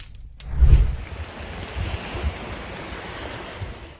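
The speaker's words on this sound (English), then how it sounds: "Amid the calm waves, bubbles began rising through the sand." Calm ocean waves on Tigertail Beach in Florida make a soft, low wash with one fuller surge early on, then a quiet, steady murmur under light wind noise.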